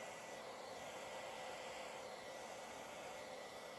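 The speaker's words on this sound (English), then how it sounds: "Mostly the heat from that hairdryer." Hairdryer blowing on epoxy resin to form ocean-wave cells: a steady, even whoosh of air and motor hiss held for a few seconds, fairly faint, with no talk.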